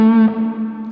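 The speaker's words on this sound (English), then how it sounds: "Then there's going to be a massive descending lick." Electric guitar with heavy effects, distortion and echo, rings out a sustained bright note that slides downward as the lick begins, loud and alone, trailing off in reverb.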